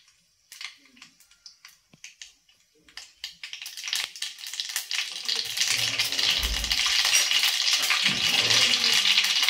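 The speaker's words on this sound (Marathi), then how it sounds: "मोहरी छान तडतडायला लागली" Sharp pops and crackles start sparse, then build into a dense, loud sputtering of mustard seeds spitting in hot oil that continues steadily to the end.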